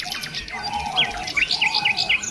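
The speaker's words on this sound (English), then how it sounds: "mysterious or as captivating as the Ajori songbird." Several birds sing and chirp in a forest, with a steady mix of high, rapid trills and repeated short whistled notes at close to moderate distance over a continuous rustling background.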